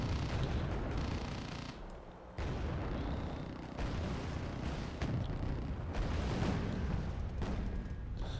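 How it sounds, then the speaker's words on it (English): An F-16 Falcon drops its payload in Wargame Red Dragon, and a loud string of bomb blasts and booming rumbles follows, with a brief lull near the middle before more impacts. "F-16 Falcon just dropping in its payload."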